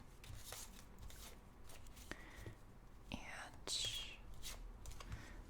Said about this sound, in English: I'm just gonna shuffle the cards a little bit,